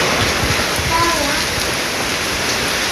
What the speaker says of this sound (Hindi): इतनी झमाझम बारिश हो रही है